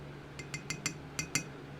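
Light metallic clinks of a measuring teaspoon tapping while adding small holographic silver glitter for homemade plastic fishing baits, six quick soft ticks close by in a quiet room.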